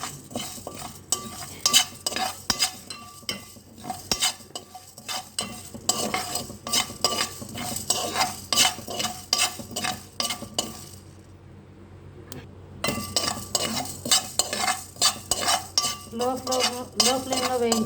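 A spoon scrapes and taps against a pan while coriander seeds and cumin dry-roast over low flame, making a rapid rhythmic rattle of clinks with a faint background sizzle and a brief pause midway.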